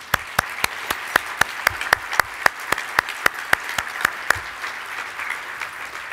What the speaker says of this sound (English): So if you would please stand and receive our applause.